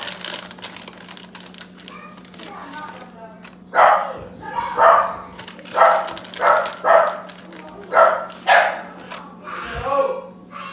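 A dog indoors barks in a series of about eight loud, sharp barks spaced roughly half a second to a second apart, with a faint steady electrical hum underneath.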